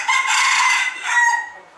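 A chicken calls out loudly and close by in a short, strained cackling burst, with a brief second rise before it trails off, at a Thai cat-themed shop in Amphawa.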